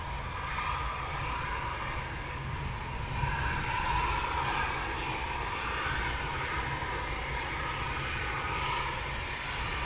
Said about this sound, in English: Two Typhoons now taxiing out for runway 25.